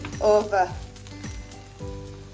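Bubble and squeak patties from Christmas leftovers fry in a small pan, giving a steady, close sizzle with a couple of brighter crackling bursts near the start. A faint voice can be heard briefly.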